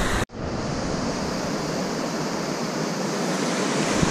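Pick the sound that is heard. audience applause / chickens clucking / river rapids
river rapids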